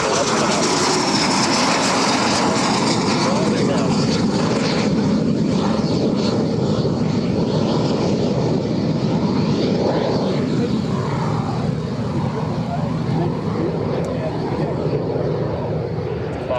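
A warbird plane takes off at EAA AirVenture 2025, its engine a loud, steady roar with a broad rumble that holds for the whole stretch and eases only slightly near the end. Calm wind, a crowded airshow setting.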